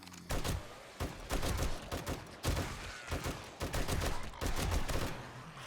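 An M60 machine gun firing in the video game 7 Days to Die, loud sustained automatic bursts separated by brief pauses, with dense rapid shots and heavy low-end punch.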